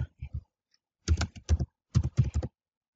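Bursts of quick keystrokes on a computer keyboard, close and crisp in a quiet room, with three short clusters of typing separated by pauses while text is entered in Photoshop.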